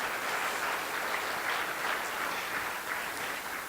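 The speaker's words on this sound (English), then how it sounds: "I want you to give right here yourself and the staff a big hand of applause" Conference attendees at a 50th anniversary event give a round of applause, a soft steady patter of many hands heard at a moderate distance, even throughout.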